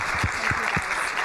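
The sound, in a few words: audience applause for the panel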